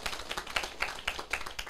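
A crowd claps at a political lecture on Taiwan's civil government and international relations, with steady overlapping handclaps at moderate distance and a few sharper accented beats, all fairly faint.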